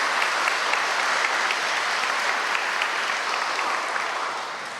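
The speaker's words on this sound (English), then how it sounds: "If you would please, a brief round of applause to thank Mr." Sustained audience applause at a middle school eighth grade spring concert, honoring the director of bands; dense, steady clapping from a full room that holds evenly and begins to taper off near the end.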